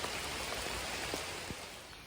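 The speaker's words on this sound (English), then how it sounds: "I'd rather be walking in the rain and at least staying somewhat warm." Rain falls steadily outdoors as someone walks, a soft even hiss with a few faint drop taps, quiet and unbroken throughout.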